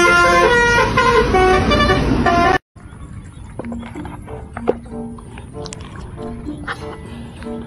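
A tour bus horn blares loudly for a few seconds with steady musical tones, then cuts off, leaving roadside traffic noise with scattered short honks and passing vehicles.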